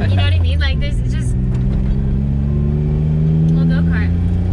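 A modified Mazda Autozam AZ1 kei sports car being driven, its small engine droning and revving from inside the cabin, pitch rising and settling, with a voice talking over it.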